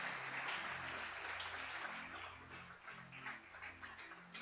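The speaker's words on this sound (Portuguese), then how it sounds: "Pode aplaudir o Senhor." A church congregation applauds through a family worship service, a steady broadband patter of many hands with a low organ-like hum beneath, fairly distant and even in level.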